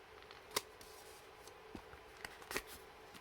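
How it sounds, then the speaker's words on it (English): Scissors cutting paper during a card-making class with a Stampin' Up citrus-themed bundle, heard as a few faint, isolated snips spread across a quiet room. "and then we're going to cut that."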